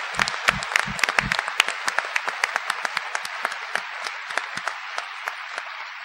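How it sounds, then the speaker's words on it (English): A modest audience at a Stuyvesant Town–Peter Cooper Village community meeting gives Al a round of applause, starting with a burst of close claps that thins into scattered, fading individual claps. "I think we should give Al an extra round of applause"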